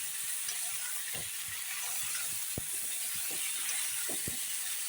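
Eggplant pieces fry in a pan alongside bottle gourd greens, giving a steady, even sizzling hiss with a few faint scattered clicks and taps underneath.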